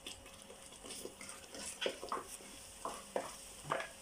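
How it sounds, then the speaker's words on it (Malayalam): Ground masala paste being stirred in a hot pan with chilli powder, heard as soft scraping strokes over a faint sizzle, several spoon sweeps close by and fairly quiet, with no talk. "ഇനി ഇത് നല്ലപോലെ ഇളക്കണം."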